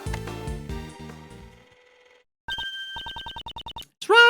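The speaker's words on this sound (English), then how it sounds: "Mr. Edgeworth, Judge Courtney's cell phone's ringing." A cell phone rings in the Ace Attorney Investigations 2 video game: a rapid, evenly pulsed electronic ring sounding close and clear after fading musical tones, followed by a brief rising chime.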